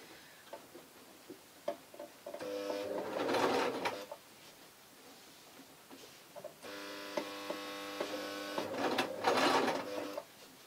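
A hot, straining sewing machine stitching jersey T-shirt fabric runs in two sustained bursts with a steady mechanical hum and rapid ticking, separated by quieter pauses of faint clicks, close and moderately loud.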